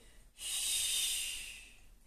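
A single deep, steady breath during a Pilates workout, a long airy hiss swelling in and fading over about two seconds, close and soft with no talking.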